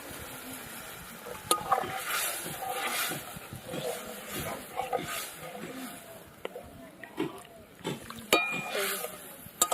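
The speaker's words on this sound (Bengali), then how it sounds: "এবার আমি জল দিয়ে দেব" Water poured into hot fried spice masala for a fish curry made with rohu (katla) fish, giving a soft sizzle and bubbling with light stirring and clinks, close and fairly quiet.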